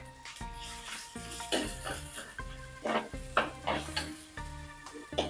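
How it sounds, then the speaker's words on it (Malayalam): Onions sautéing in a pan for a Kerala taro and tomato curry, a soft sizzle with repeated close stirring scrapes and spoon clinks against the pan, steady and unhurried. "ഒന്ന് വഴന്നു വരട്ടെ നമ്മുടെ സവാളയൊക്കെ വഴന്നു കഴിഞ്ഞ്"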